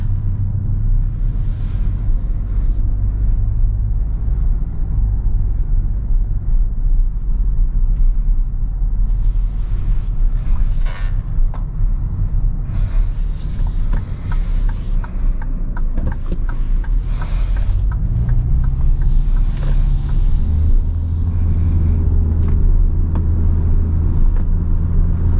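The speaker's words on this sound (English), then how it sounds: "Alright, so driving this 2022 Hyundai Venue Limited" Cabin of a 2022 Hyundai Venue Limited on the move: a steady, loud low rumble of tyres and road with a faint engine hum, occasional light ticks and clicks inside, and no talking.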